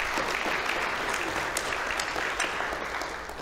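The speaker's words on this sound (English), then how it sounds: "you give them a round of applause" A church congregation at a Baptist service applauds for the mothers on Mother's Day, a dense, steady wash of clapping from a large crowd that holds throughout and fades slightly at the end.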